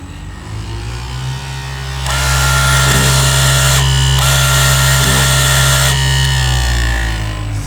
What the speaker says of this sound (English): this machine actually cuts very well, and the sharpener, I'm gonna make it run.